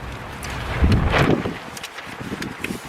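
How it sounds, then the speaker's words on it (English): Broadband wind buffeting a microphone, a steady rushing rumble that swells to a stronger gust midway before easing off. "It is windy"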